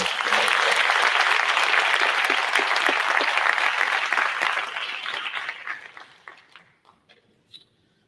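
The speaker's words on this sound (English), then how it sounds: "give one more round of applause to Jennifer" Enthusiastic applause for Jennifer, a mentor, at a business scaling program event: dense crowd clapping that holds steady, then thins into scattered individual claps before fading out.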